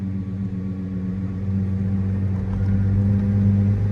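A car motor driven forward in first gear, a steady low engine hum that swells slightly louder toward the end, no voices.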